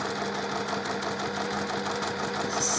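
A sewing machine stitches along a drawn line on scrap fabric, a steady close mechanical whir with a fast, even rhythmic clatter throughout.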